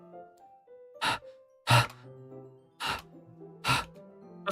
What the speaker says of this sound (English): It sounds like breathing. Sharp inhale, like someone is sucking the air in through their teeth.